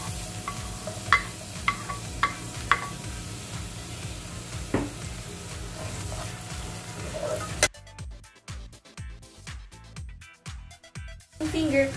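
Onions frying in a pan for a crab misua soup, with a steady sizzle, scattered clinks of stirring, and a voice speaking over the first part before the sound turns to choppier, uneven crackling and scraping.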